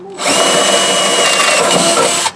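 A power drill whirs steadily at high speed for a couple of seconds while drilling a hole for a rivnut, starting and stopping abruptly, close and loud.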